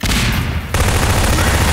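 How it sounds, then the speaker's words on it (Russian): Grenade explosion in the Garry's Mod game, a loud roaring blast with dense noisy rumble filling the whole moment, no talk heard. "А, граната."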